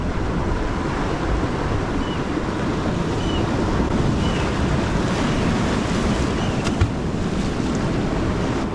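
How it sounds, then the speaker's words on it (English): Sea swell rolls onto a rocky shoreline where someone is lure fishing for wrasse, making a constant loud roar of surf mixed with heavy wind buffeting the microphone, with no talk. "There's that swell rolling in, it's just bashing about."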